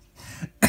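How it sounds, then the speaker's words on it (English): A single short cough from a sick person in a quiet room, preceded by faint breathy throat sounds, close and fairly loud at the end. "it's just a cough"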